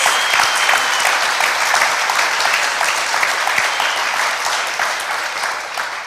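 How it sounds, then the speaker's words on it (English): A large audience at a computer science education week kickoff event applauds educators, a dense, loud, sustained clatter of many hands that slowly tapers toward the end. "Can we just get another round of applause for our educators?"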